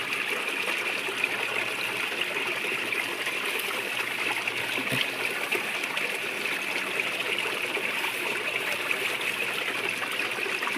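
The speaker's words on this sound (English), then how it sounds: "Get my little snuffer bottle and squirt a little water." Water is squirted from a small plastic snuffer bottle into a gold pan of paydirt, making a steady, close trickling and spraying that lasts throughout with no talk.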